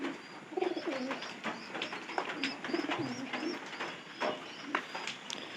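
Pigeons kept in a loft on a rainy day coo repeatedly in low, rolling phrases, with a few higher bird chirps scattered over a steady background, several birds close by and moderately loud.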